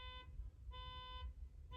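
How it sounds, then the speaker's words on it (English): A car alarm sounds faintly in the distance, steady electronic tones cycling on and off in a repeating pattern over a constant low rumble. "the alarm keep going off. Something must be wrong with his car."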